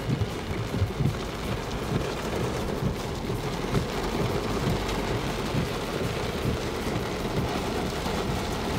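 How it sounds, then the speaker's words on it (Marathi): Heavy rain falls in Tarapur Chinchani, Palghar, over rice fields, a steady dense hiss of downpour that holds evenly throughout. "भात पिकांना उभारी देणारा पाऊस सध्या पडतोय"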